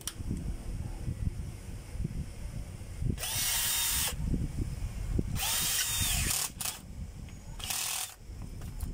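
A power drill drives the screw of a cord clamp in several short bursts of high whirring, separated by quiet handling clicks and rustles, close and fairly loud.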